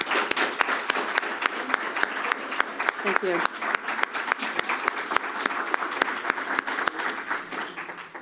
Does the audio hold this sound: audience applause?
yes